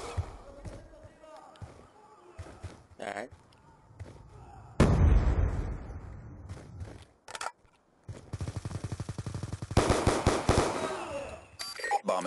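A grenade blast in a first-person shooter game: one loud explosive burst rising sharply from quieter gameplay, followed by crackling gunfire and bursts, with players talking throughout.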